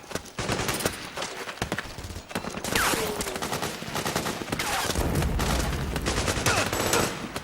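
Dense gunfire in the video game Metal Gear Solid 4, with rapid, overlapping bursts and loud sharp shots filling the whole stretch, accompanied by a rumbling game soundscape and no clear talk.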